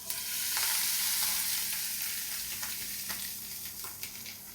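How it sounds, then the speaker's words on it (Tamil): Fish added to hot oil with mustard seeds, a steady close sizzle with scattered small pops and crackles, fading slightly toward the end. "கடுகு பொட்டிட்டு இப்போ நம்ம மீனை சேர்த்துடலாம்."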